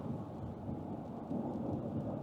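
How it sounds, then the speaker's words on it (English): Steady rain falls outdoors as a constant, even wash of noise with no talking. "As rainy as it is, and for some people, you know, they don't really like the rain."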